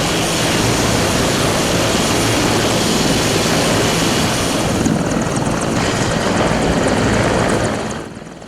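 A military helicopter flies close and loud, its rotor and engine roar steady and dense, then fading slightly toward the end.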